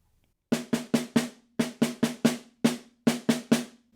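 Solo snare drum at mezzo forte playing an etude measure with a right-hand lead: fourteen crisp, evenly loud strokes in short rhythmic groups separated by brief gaps, close and dry with no voices.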